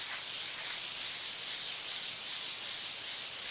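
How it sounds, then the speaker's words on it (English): Steady, loud hiss of a soft-wash sprayer wetting a concrete pool deck, rising and falling in slow regular sweeps as the nozzle moves back and forth, with no voices. "Spray off the floor mat."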